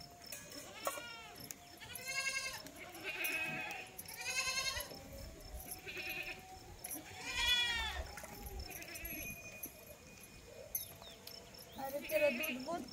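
Goats bleat repeatedly in wavering cries over about a dozen seconds during outdoor milking, with people talking nearby and faint insects chirping in the background.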